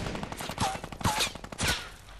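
Gunfire in Fortnite Battle Royale: several bursts of shots, some near and some farther off, come at irregular intervals, with no voices over them.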